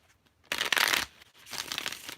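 A deck of tarot cards is riffled in two quick bursts, the first longer and louder, the second softer, close up in a quiet room.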